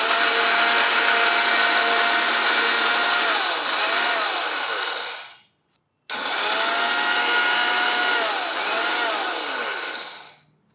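A kitchen mixer grinder runs hard on black gram for chutney, a loud steady whirring roar that winds down, stops for a moment, then starts again and runs before tapering off, with no voices.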